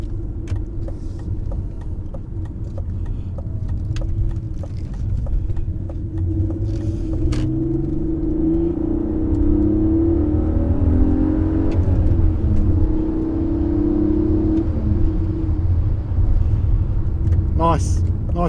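2001 BMW E46 330i Touring with a five-speed manual accelerating from inside the cabin, engine note rising and falling through the revs over a steady road rumble, with someone talking over it.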